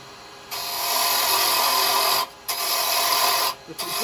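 Wood being turned on a lathe with carbide chisels while a small Christmas angel is roughed down to size: a loud, steady rasping scrape broken by two short pauses as the tool lifts off.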